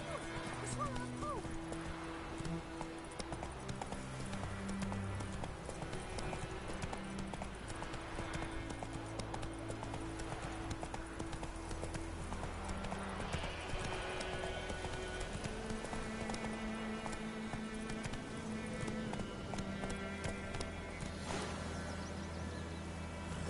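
Horse hooves galloping in the video game The Witcher 3, a quick steady clip-clop rhythm that runs throughout under game music and intermittent talk.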